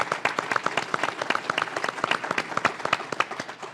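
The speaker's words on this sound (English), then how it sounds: "I'll give you a round of applause with Johnny here for you." A small audience applauds with distinct, separate claps at a fireside chat, moderately close and steady for a few seconds, with no voices over it.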